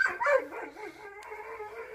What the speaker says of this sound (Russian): Ну вот, собаки учуяли запах наконец-то.